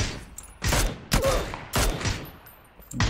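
Gunfire in the battle-royale game PUBG, played in first-person mode: four loud, sharp bursts spaced about half a second apart, each with a ringing tail, and no talking.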